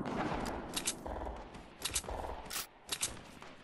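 Fortnite Battle Royale squad match gunfire comes as several quick, sharp bursts of shots spaced across the moment. The shots are moderately loud against game background noise.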